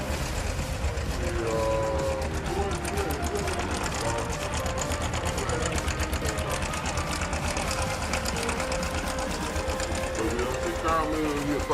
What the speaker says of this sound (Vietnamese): Đó, chiếc cam nó kêu như vậy đấy.